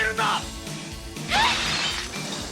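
Glass shatters twice in a laboratory being smashed, each burst a sharp crash with bright tinkling fragments, the second louder than the first, over a low background hum.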